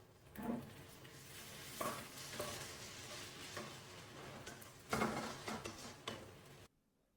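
Onions with a pinch of salt frying in a pan for nonbu kanji, a soft, fairly faint sizzle with intermittent spatula scrapes and taps, stopping abruptly at the end.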